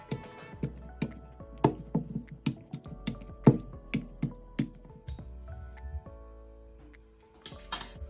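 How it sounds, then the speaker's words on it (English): A metal fork pokes holes into raw sweet potatoes on a kitchen counter, giving a series of sharp, separate clinking taps at an uneven pace, close and clear with no talking, ending in a brief louder rattle. "Now I'm going to take a fork and I'm going to poke holes into our sweet potato."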